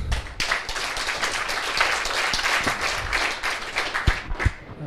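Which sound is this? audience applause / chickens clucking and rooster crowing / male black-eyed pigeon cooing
audience applause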